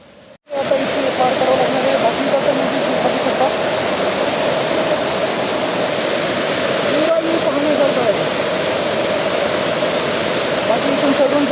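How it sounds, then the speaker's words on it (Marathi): A monsoon waterfall at Visapur fort roars close by in heavy rain, a dense, constant rushing wash that starts abruptly and stays loud and unbroken throughout. "इथं झरणा खूप मस्त आहे"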